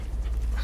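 A puppy from the Metal Gear Solid V video game pants in a short, soft burst of quick breaths over a low background rumble.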